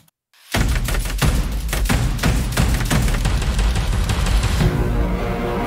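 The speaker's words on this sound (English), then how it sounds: "I added Hans Zimmer percussion with a Taiko sample, and it sounds like this." A Hans Zimmer percussion Taiko drum sample in an epic trailer score, a loud, dense barrage of booming drum hits with rolling accents that continues for several seconds after a brief silence, with no talking.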